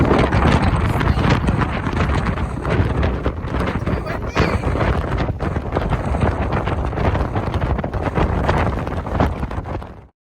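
Strong wind roars continuously across the microphone in loud, buffeting gusts at a roadside on the Isle of Skye, with no break for about ten seconds.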